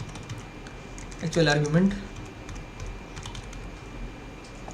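Keystrokes on a computer keyboard tap out a light, scattered clicking rhythm, while a voice speaks briefly over it partway through.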